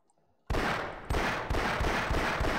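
Gunfire in Half-Life, a rocket launcher and explosives in play, loud repeated blasts: a sharp onset after a quiet moment, followed by two more strong hits that run together into sustained, dense noise.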